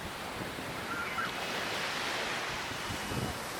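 Ocean waves wash in a steady, full rush of surf on a steeply deepening sea off Ulleungdo, with a windy roar and no clear breaks between swells.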